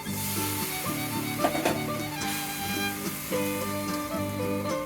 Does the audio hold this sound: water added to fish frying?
yes